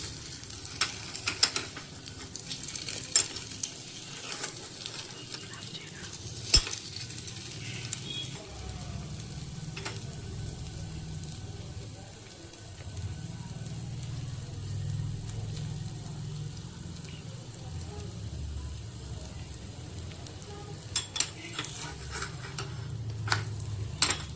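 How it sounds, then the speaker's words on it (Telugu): A burger patty frying in a pan on the stove, a soft steady sizzle with occasional clinks and scrapes of a utensil against the pan as it is stirred and turned, no talking. "రెండు వైపులా ఫ్రై అయినాక"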